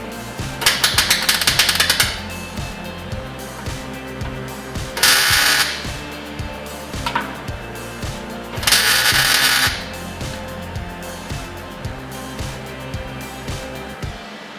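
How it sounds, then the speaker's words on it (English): Tack welding traction bars onto a 1966 Mustang, short bursts of welding crackle at close range, with a steady rhythmic mechanical ticking running underneath throughout. "everything's ready to weld. So I'm just going to tack it"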